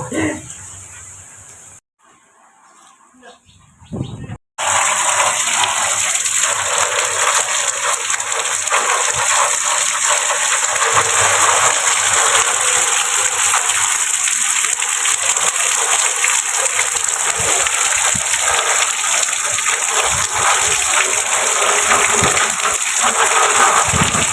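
Heavy rain pouring and splashing steadily outdoors, a dense, close wash of falling water that starts after a brief quieter moment and continues loudly throughout.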